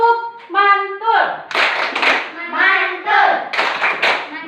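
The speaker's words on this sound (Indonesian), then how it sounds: "Mari kita beri tepukan mantul." Children in a classroom clap in a quick rhythmic pattern of bursts, close and loud, interleaved with sung or chanted voices.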